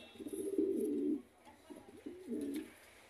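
A pair of White King pigeons coo close by, two low throaty rolling coos separated by a short pause, soft against a quiet background.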